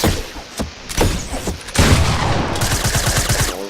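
Rifle fire in a video game aim training map: rapid, loud bursts of shots, first several separate cracks, then a dense, sustained rattling volley in quick rhythm, with no talking.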